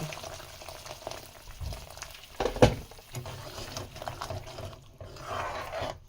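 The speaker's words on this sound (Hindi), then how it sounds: "उसके बाद जो है हम 1 कप और गर्म पानी डालेंगे" Hot water poured into a simmering Sindhi stuffed green chili curry gravy made with gram flour, a steady liquid splash and bubbling, louder in a brief burst near the middle, then settling into a softer simmer.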